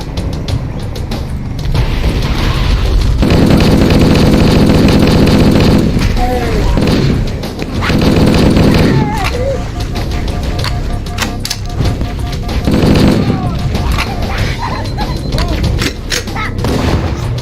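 Gunfire in Halo: Combat Evolved on PC, dense rapid bursts and booming blasts of battle noise filling the scene loudly and continuously, with voices talking over the combat.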